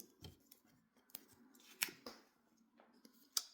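A deck of cards is cut and handled for a card reading, giving a few crisp, scattered snaps and taps close by, with quiet gaps between.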